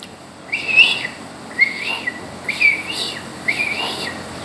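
A mimicry performer at a retirement function imitates a koel's call with four clear, whistled, rising notes, evenly spaced and alone with no talk.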